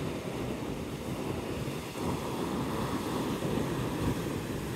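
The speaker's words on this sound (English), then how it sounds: "The waves are still a pretty big size." Ocean waves roll onto Navarre Beach after a storm, still fairly big and murky, a steady broadband surf wash mixed with wind noise and no voices.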